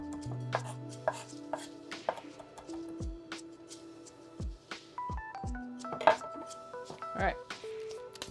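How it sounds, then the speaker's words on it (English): A knife minces on a cutting board with quick, irregular chops close by, under quiet speech and faint kitchen clatter. "And then we can just get to the mincing."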